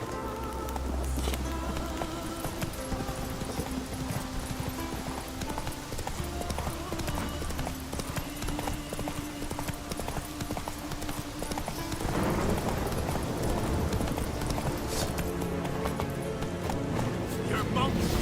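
Horse hooves clip-clopping steadily in the video game The Witcher 3, a continuous rhythmic trot that turns busier and louder near the end, with game voices and other game sounds layered over it.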